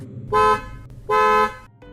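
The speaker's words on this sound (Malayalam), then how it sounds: "കാറിന്റെ ഹോണടി കേട്ടതും" A car horn sounds twice, two loud, sharp honks about half a second each, close by and alone, followed by a softer short tail of a third tone.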